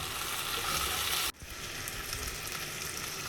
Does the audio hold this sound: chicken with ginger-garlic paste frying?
yes